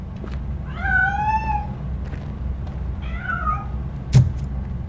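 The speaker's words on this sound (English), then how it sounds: "That cat must be hiding inside." A cat in the video game Robocop Rogue City meows twice, two drawn-out wavering cries a couple of seconds apart over a low steady background hum, followed by a brief sharp knock.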